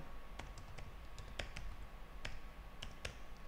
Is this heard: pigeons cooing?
no